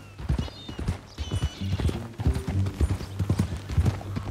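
Horse hooves clip-clop at a steady walking rhythm in Red Dead Redemption 2, close and clear, with a low droning background and brief game sounds mixed in.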